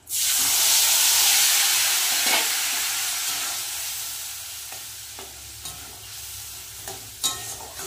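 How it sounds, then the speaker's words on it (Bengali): A spice paste of ginger, cumin, turmeric, salt, tomato and green chilli sizzles loudly in hot oil in a home kitchen, a strong hiss at first that slowly eases, with occasional stirring scrapes and clacks toward the end. "ভালো করে কষিয়ে নেব মশলাটা"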